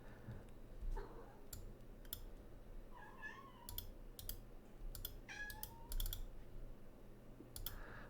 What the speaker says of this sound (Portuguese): Tem uma gata aqui que ela me interrompe. E ela tá chorando lá.